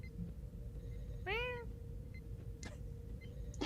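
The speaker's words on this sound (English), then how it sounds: "cat." A house cat gives one clear, rising-and-falling meow midway through, close and distinct over a quiet room with faint background hum and a couple of small knocks.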